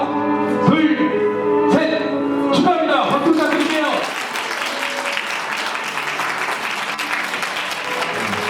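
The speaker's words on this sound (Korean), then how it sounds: "우리 학생분들은 아, 축하합니다 하면서 큰 박수로 축하해 주시면 감사하겠습니다" Wedding guests at a garden venue in Daegu break into loud, sustained applause that fills the room, with musical tones and voices mixed in at the start before the clapping settles into a dense, steady roar.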